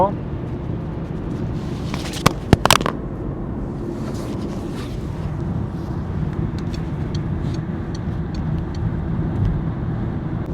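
Inside a Peugeot 308 SW estate with a 1.6 diesel engine, cruising at 110 km/h on a highway: a steady low road and engine rumble fills the cabin, with a few brief clicks early on and someone talking over it.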